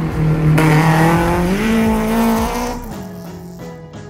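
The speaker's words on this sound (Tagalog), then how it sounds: "Ganda ng tunog BM na to." A loud rally car engine revs and roars steadily at high pitch, then eases off slightly toward the end, with no voices.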